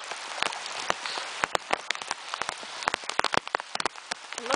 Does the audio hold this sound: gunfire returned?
no